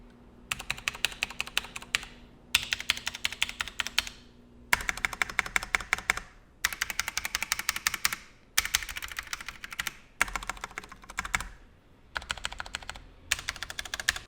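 Typing on two mechanical keyboards with Cherry MX Brown switches, a Durgod Taurus K310 and a Ducky, in alternating bursts of rapid close key clacks separated by short pauses.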